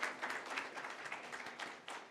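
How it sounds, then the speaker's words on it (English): Audience members at a county candidate forum give the event sponsors a short round of applause, thin and fairly distant clapping at low level. "If we could, please give them a round of applause"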